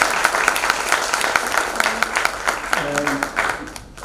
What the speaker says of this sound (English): may we have a round of applause for the celebrated guests